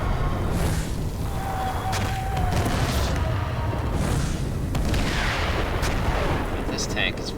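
Tank cannon shots in a tank video game, heavy booming blasts over a constant dense rumble of battle noise, with talk running through it.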